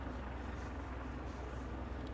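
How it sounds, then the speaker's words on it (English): A helicopter on the move at Aberdeen heliport gives a steady low droning rumble, fairly faint and distant, continuous with no talk. "We've got a chopper on the move."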